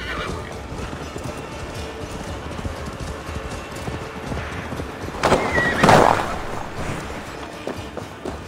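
In Assassin's Creed Valhalla, hooves clip-clop at a steady gallop, then a horse gives a loud, sharp whinny near the end.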